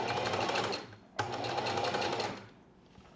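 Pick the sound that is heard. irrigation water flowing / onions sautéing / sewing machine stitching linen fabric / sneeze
sewing machine stitching linen fabric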